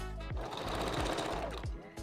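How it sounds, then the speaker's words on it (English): A Janome Sewist 500 sewing machine runs in a fast, steady mechanical whir with rhythmic thumping needle strokes, close and fairly loud, no talking. "I use the Janome Sewist 500."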